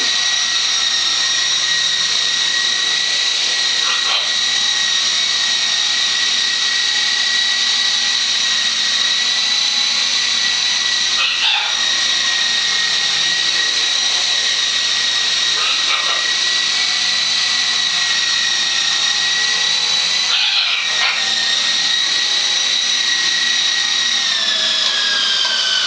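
A model helicopter flies with a steady, high-pitched rotor and motor whine held at a constant level, with small pitch dips every few seconds and no voices.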